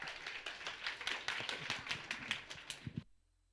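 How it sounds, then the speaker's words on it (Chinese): Congregation applause welcoming a dance troupe at a church service, a few seconds of moderately loud, dense hand clapping that stops abruptly, followed by near silence. "好，我们热烈掌声欢迎我们的舞团。"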